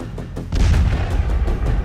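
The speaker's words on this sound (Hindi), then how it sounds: "कीव के पास आज रूस ने ड्रोन से अटैक कर यहां एक के बाद एक 4 धमाके किए" Explosions from a Russian drone attack near Kyiv, Ukraine: a loud, deep booming blast swells up and rumbles on over roaring low-end noise, with no voices.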